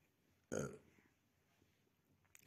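Several loud belches from a man at a village wedding gathering, the first a long, strong burp close to the microphone, then quiet room tone and another short burst at the end.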